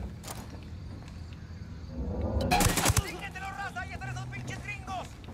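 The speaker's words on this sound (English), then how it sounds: "Opening fire on these fuckers." Machine gunfire in Ghost Recon Wildlands: a dense burst of rapid shots around the middle, mixed with game effects, under ongoing speech.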